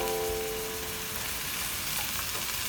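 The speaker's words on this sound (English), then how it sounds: "now that the onions are nice and pink, we are going to add the peppers, the mixed peppers," Mixed peppers go into a pan of sizzling onions, raising a steady, loud frying hiss close by with faint stirring.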